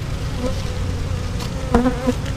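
Honey bees hum and buzz steadily from an opened nuc hive, a dense close-up drone with a few louder passes of individual bees near the end. No talking.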